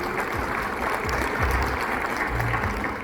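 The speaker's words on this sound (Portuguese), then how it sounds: "Então vamos receber o Lucas Fonoli com uma salva de palmas." Audience applause at a hospital sector conference, steady dense clapping from a crowd welcoming a speaker to the stage, sustained at even loudness throughout with no talking.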